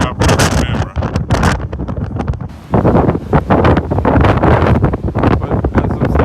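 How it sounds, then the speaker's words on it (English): Strong wind buffeting a microphone during a coastal snowstorm, loud continuous roaring gusts that dip briefly before surging again. "as I'm standing here in the wind"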